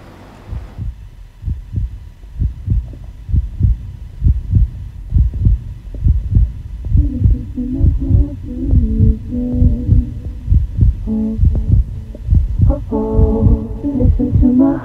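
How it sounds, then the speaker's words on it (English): Deep, steady heartbeat thumps pulse about once every half second through a nasheed recording, loud and close, with melodic voice-like tones rising over the beat in the second half. "Listen to my heartbeat, yeah."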